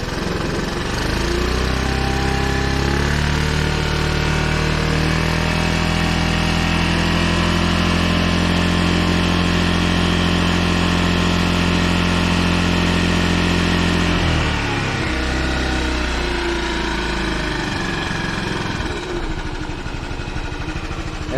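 A Honda Helix scooter engine runs steadily at idle, then its pitch rises and holds through a long rev before dropping back, loud and close with no voices.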